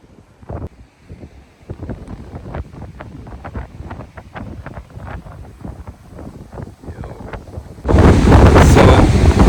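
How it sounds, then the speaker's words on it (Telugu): Cold wind gusts at Myrtle Beach buffet the microphone in uneven rumbling bursts, then surge into a loud, continuous roar for the final seconds. No one speaks. "ఇక్కడైతే చాలా చల్ల గాలి వస్తుంది."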